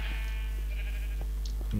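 A Minecraft sheep bleats once in a short wavering cry over a steady low game hum, followed by a few soft clicks.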